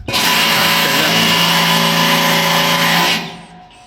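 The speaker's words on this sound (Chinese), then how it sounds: "现在我们干活都是用这个罗特的电动扳手" A Rote cordless electric impact wrench, short-bodied with high torque, drives bolts on a peanut harvester, giving a loud, steady, close whirring hammer for about three seconds before cutting off.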